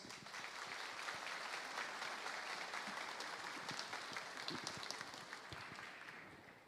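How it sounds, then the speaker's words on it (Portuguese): Sustained applause from a church audience welcoming a guest lecturer, Dr. Wilson Paroschi, steady dense clapping held at an even level throughout, fairly distant and soft. "Vamos recebê-lo com a salva de palmas."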